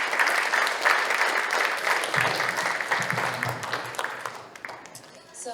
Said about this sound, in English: please give us a round of applause for this esteemed couple